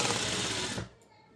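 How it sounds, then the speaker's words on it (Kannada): An electric sewing machine stitches a straight seam along a marked line in a fast, steady whirring run that cuts off abruptly after under a second, leaving quiet room tone. "ಅದ್ರ ಮೇಲೇ ನೀಟಾಗಿ ಸ್ಟ್ರೈಟಾಗಿ ಒಂದು ಸ್ಟಿಚ್ ಮಾಡ್ಕೊಬೇಕು"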